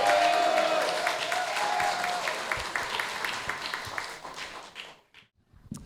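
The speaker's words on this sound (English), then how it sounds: "Big round of applause for our best man." Wedding reception crowd applauding the best man during the speeches, a dense wash of clapping that stays loud for about four seconds, then thins and fades to scattered claps and near silence.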